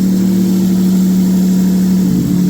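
A Toyota KE70 fitted with a V6 engine idles steadily after a long period without running, a loud, even low rumble with a slight shift in tone near the end.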